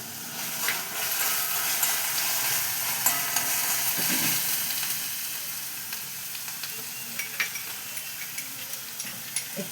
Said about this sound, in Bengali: ওই যে গুলিয়ে রেখেছিলাম জিরে আর ধনে একটু জলে, সেটা আমি দিয়ে দিচ্ছি